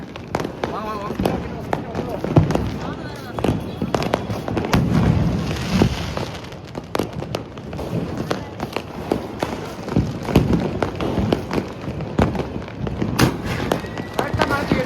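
Sharp crackling firecracker pops and bangs burst repeatedly through the whole stretch during a family Diwali celebration, mixed with people talking and moving about nearby.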